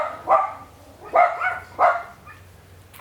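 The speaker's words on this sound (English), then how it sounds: "What are they barking at?" Dogs bark three times in evenly spaced, moderately close barks over a low background hum.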